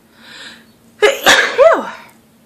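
A soft intake of breath followed by a single loud, close sneeze with a sharp burst and trailing exhale.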